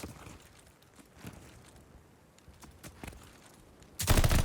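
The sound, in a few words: gunshots in a video game match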